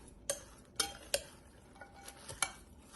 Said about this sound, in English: let's stir this up for a minute